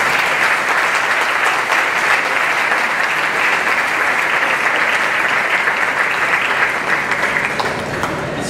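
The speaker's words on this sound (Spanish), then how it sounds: "Fuerte aplauso a las madres, por favor." Loud, sustained applause from an audience honoring mothers, a dense, even wash of clapping that holds steady throughout without pause.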